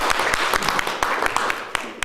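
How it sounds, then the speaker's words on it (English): Audience applause at a startup funding conference talk, a steady patter of many hands clapping at close range with sharp individual claps standing out, with a voice faintly beneath. "let's give Elena a big round of applause"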